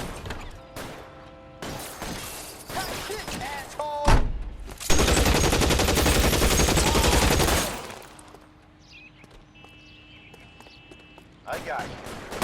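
Bursts of gunfire in L.A. Noire, with scattered shots and clanks first, then a loud sustained volley of several seconds, followed by quieter mechanical sounds and another shot. Voices talk in between the shots.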